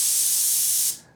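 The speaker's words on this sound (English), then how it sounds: "So take your spray gun, kind of test an area, see how it's spraying." An airbrush spray gun gives one steady, loud, bright hiss lasting about a second before cutting off abruptly.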